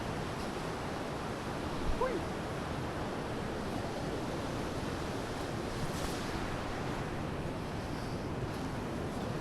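Bhagirathi river flowing, a continuous broad rushing roar of water, steady and fairly close, with faint voices in the background.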